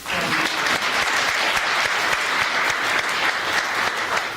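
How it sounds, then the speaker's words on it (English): Audience applause at a United States citizenship ceremony in Erie, a dense, even round of clapping from many people that holds steady throughout. "Please join me in one more round of applause."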